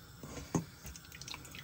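Water drips and trickles from raw chicken pieces being squeezed by hand while making KFC-style chicken tenders, a few soft wet splats with one sharper drop, close and faint, no talking.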